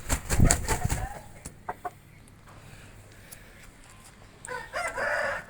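A Bangladeshi Aseel rooster crows loudly and close in one strong call, followed by a couple of short clucks and quieter yard sounds, then a second burst of noisy calling near the end.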